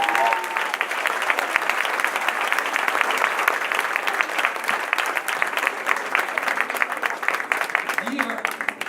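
An audience claps steadily at an inauguration ceremony in Grasse, a dense and even applause that holds for the whole stretch, with a voice briefly heard at the start.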